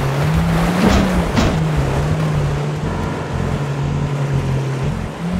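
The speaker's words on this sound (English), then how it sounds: "I feel like I'm driving into a swamp." A vehicle drives into swamp water in the Beware game, with a loud steady engine drone and sloshing, churning water throughout, close and continuous, no speech.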